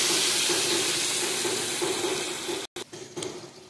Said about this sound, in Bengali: এই জলটা বা মশলাটা আমি ঢেলে দিলাম।